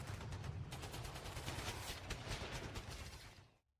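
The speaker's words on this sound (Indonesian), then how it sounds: "Suara mesiu dan peluru kian memekakkan telinga" Gunfire and bullets as an audiobook sound effect: dense, continuous bursts of rapid shots blending into a rattling barrage at low volume, fading out abruptly at the end.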